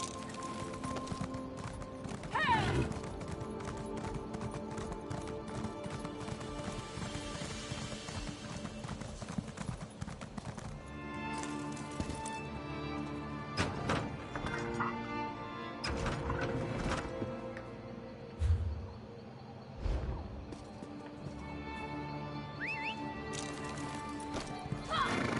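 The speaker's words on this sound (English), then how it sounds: "Let me call my horse." Summoned horse in Elder Scrolls Online on PS5, with hoof clip-clops and whinnies over a continuous game music and ambience bed, plus some louder impact bursts later on.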